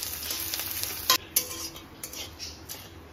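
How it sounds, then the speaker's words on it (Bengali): Whole cumin, dry chilli, bay leaf and grated ginger sizzle steadily in a pan, close up, while a spoon scrapes and clinks against the metal in a few sharp strokes. "ভাজা হয়ে গেছে গোটা জিরে,"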